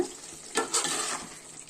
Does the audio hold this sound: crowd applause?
no